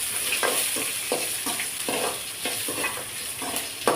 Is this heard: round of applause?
no